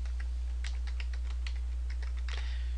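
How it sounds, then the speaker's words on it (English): Keys tapped on a computer keyboard in a steady run of separate clicks, close and clear, over a constant low electrical hum. "And then we're going to type in explore nature."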